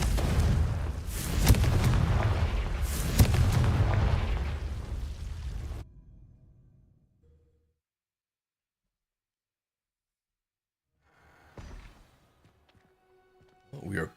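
A Confringo blasting spell explosion in Hogwarts Legacy: a loud, rumbling close blast with booming low end that trails off into a fading tail, followed by quiet and a couple of small later impacts.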